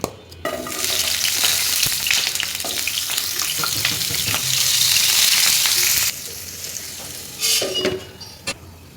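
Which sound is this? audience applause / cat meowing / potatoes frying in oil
potatoes frying in oil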